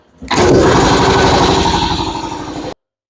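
An air compressor running loudly and steadily in a workshop during a Bobcat lift cylinder reseal, with a coarse mechanical chug that starts abruptly and cuts off after a couple of seconds.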